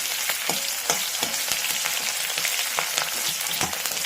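Green chillies and onions frying in a pan, a steady close sizzle with scattered crackles and stirring scrapes throughout, no voices.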